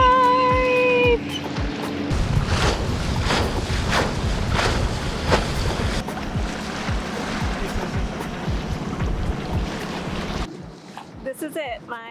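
The sailboat One Life sails through wind and waves near Fiji, giving a steady, close rush of wind and water slapping against the hull that fades near the end. A brief voice calls out at the start.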